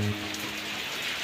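Steady rain patters on a surface in a continuous, even hiss, close and moderately loud, with no talking.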